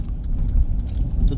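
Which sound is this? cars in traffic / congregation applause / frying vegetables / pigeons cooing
cars in traffic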